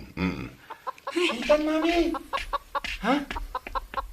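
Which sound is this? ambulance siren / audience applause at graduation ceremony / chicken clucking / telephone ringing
chicken clucking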